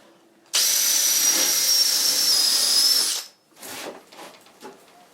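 A dull power drill whirs steadily at high speed for about two and a half seconds while drilling during a boat steering-cable installation, then stops, followed by quieter scraping and handling noises.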